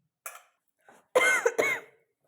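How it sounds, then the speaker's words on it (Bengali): A person coughs indoors at home: a faint short cough, then two loud harsh coughs in quick succession, close and alone with no talking. "কি কাশি হচ্ছে, কাশিই কমছে না।"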